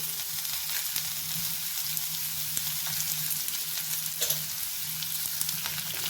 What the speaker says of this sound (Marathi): आता हे पण मुळा छान मऊ होईपर्यंत आपल्याला परतून घ्यायचं थोडीशी हळद घालूया